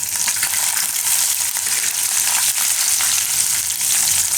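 Green chilies sizzle steadily in hot oil while making corn upma, a loud, continuous bright crackle and hiss with no pauses.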